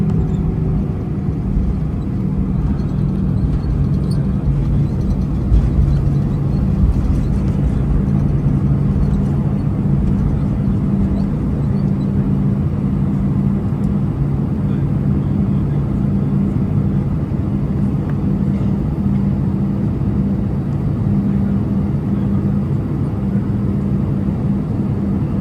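Lufthansa Airbus A319 taxiing onto the active runway at Frankfurt, a steady loud low engine rumble and hum inside the cabin, continuous and unchanging.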